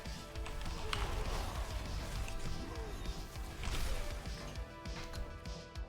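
Barbarian combat in Diablo 4: dense, continuous crunching smashes, thuds and rapid impact hits layered with game effects, loud and busy throughout with no pauses.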